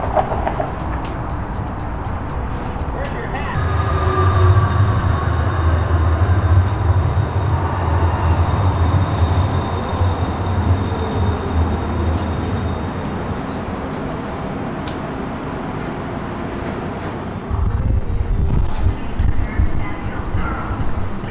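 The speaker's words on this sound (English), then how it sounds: "I got on the train." A train rolls steadily along the rails with a constant low rumble and rushing noise that swells louder partway through, plus a faint high whine and brief tones, heard from inside.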